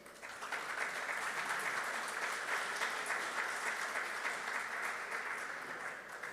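An audience at a talk on new Embrapa technologies for Brazilian viticulture applauds steadily, a dense, even clatter of clapping sustained for several seconds without a break.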